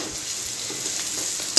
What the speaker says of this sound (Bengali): এখানে কালো জিরা ফোড়ন দিয়ে পেঁয়াজটা ভাজা হতে দিয়েছি